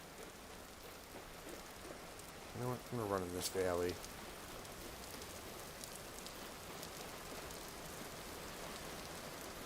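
Steady rain in the survival game Vintage Story hisses evenly throughout at low level, with a person talking briefly partway through.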